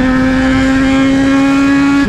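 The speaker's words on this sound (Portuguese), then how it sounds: "Só o ronco da reduzida já tá zica, né?" Remapped Yamaha XJ6 motorcycle engine holding a steady, loud drone close by, a constant low hum with strong harmonics throughout and a slight dip at the very end, with no talk.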